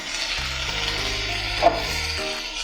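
Dried red chillies sizzle steadily in hot oil in a pan while aavaram poo chutney is being made, a soft, even crackle over a low background hum.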